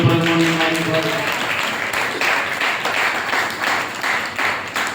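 A church congregation clapping together in a steady rhythm, a sustained voice fading out at the start, the clapping loud and continuous to the end.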